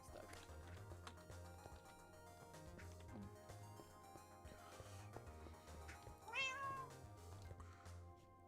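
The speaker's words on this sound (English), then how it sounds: "Did I just hear a cat?" A cat meows once in a Minecraft server, clear above a steady bed of game music and ambient noise.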